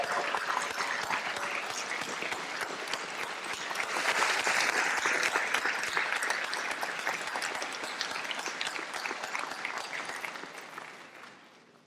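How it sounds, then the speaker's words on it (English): A graduation hooding ceremony hall at Wake Forest University's business school fills with dense, sustained applause from the audience for students' families, partners and mentors, swelling slightly midway before tapering off at the end. "please stand so that we can give you a round of applause for"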